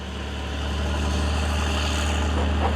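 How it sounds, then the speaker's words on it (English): A low, steady tractor engine rumble drones continuously, close and fairly loud, with a heavy idling throb and no voices. "he heard the chug, chug, chug of a tractor at work close by."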